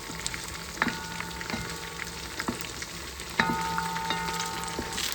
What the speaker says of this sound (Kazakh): қызарғанша жақсылап қуырып аламыз